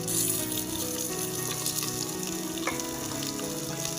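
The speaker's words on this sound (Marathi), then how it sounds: "टमाटर आणि कांदा आपल्याला छानपैकी भाजायचा आहे." Onion and tomato frying in a pan for chicken biryani, a steady, loud, dense sizzle running throughout with faint stirring scrapes.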